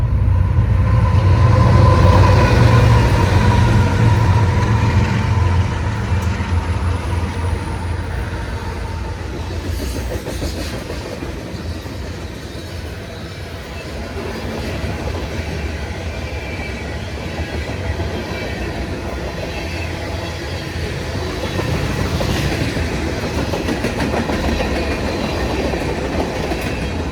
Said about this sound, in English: a very short Provo to Denver manifest passes main track number 2 in Spanish Fork